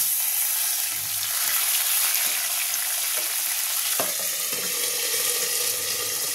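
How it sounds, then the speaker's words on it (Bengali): A paste of ginger, garlic and onion with a splash of water sizzles loudly and continuously in a hot pan, a bright steady hiss close up, with occasional soft knocks of a stirring utensil. "আদা রসুন পেঁয়াজ বাটা একটু জল দিয়ে দেবো।"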